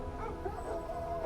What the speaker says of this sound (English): you realize you are being tracked by a pack of wolves